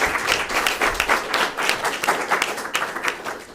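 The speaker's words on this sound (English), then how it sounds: "If you'll join me in giving both candidates a big round of applause" Audience applause for both candidates at a League of Women Voters school board and parish council candidate forum: a sustained patter of many hands clapping, close and even, easing off toward the end.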